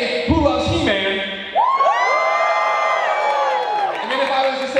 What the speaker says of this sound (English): when I ask questions to the audience, you need to clap, cheer, or boo